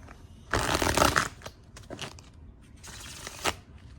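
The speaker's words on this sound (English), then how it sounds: "Okay, one more shuffle here." Tarot cards riffle and shuffle in two quick bursts, close and crisp, with softer handling noises between them.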